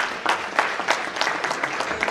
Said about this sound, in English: Let's just give our panelists and our facilitators another round of applause.